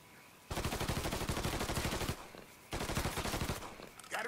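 Automatic gunfire in the Mafia 3 video game comes in two long, rapid bursts, each a clear string of closely spaced shots, separated by a brief pause before a final short rattle.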